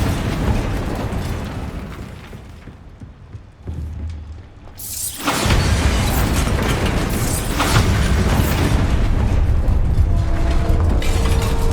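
The Bombarda explosion spell from Hogwarts Legacy goes off as a deep booming blast. A brief hush comes first, then a loud rumbling roar and debris crackle that sustains through the rest of the moment.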